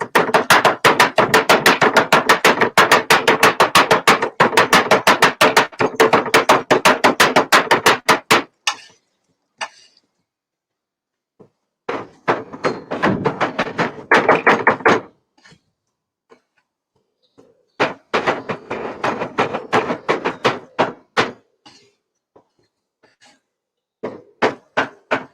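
Lean beef is chopped for pudding sausage with rapid, loud, rhythmic knocks on a board, a long dense burst followed by shorter irregular runs of chopping separated by pauses.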